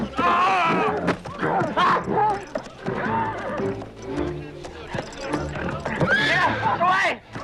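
Horse in a dark-ages village setting neighs and whinnies up close amid clip-clopping hooves, heavily mixed with shouting voices and commotion throughout.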